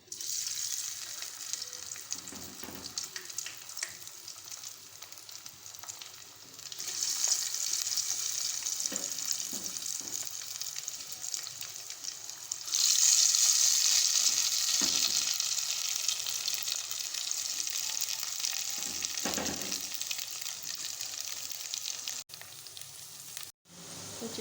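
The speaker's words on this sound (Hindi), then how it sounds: "बहुत अच्छे से फ्राई हो रही है" Potato chips frying in hot oil, a soft even sizzle that swells louder as more chips bubble, with faint stirring clinks and a sharp knock near the end, nobody speaking.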